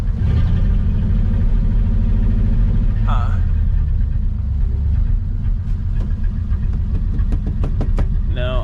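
A 1940 Mercury engine runs with a rough, uneven misfire, a loud, close rumble that stumbles, with people talking over it.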